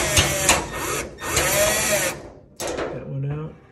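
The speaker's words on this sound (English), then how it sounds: "All right, let me take those screws out. So I'm going to get my driver in there." Power driver spinning screws out of a Maytag gas dryer panel, two close whirring runs followed by a shorter burst, with brief gaps between them.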